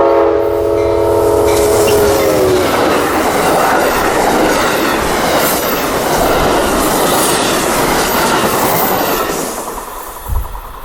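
An Amtrak Silver Star passenger train rushes past on a super-elevated curve, opening with a multi-tone horn blast, then a loud sustained roar of wheels and clattering cars that gradually fades.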